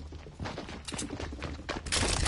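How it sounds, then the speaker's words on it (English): Gunfire aimed at the listener in a chaotic exchange, a string of sharp cracks and bursts in quick succession, some close and loud, others further off, with rumbling thuds between shots and no talking. "Holy, they're shooting at me."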